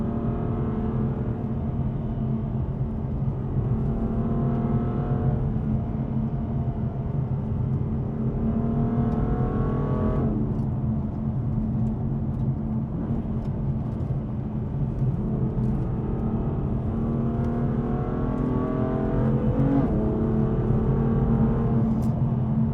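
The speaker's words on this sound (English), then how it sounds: "just flicking up between second, third and fourth gear, accelerating through the corners" A car engine with a dual-clutch gearbox revs up and climbs through second, third and fourth gear, pitch rising and dropping in repeated sweeps, steady and close throughout.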